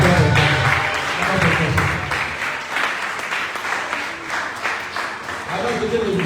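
A church congregation applauds and cheers loudly and continuously, with raised voices mixed into the clapping throughout.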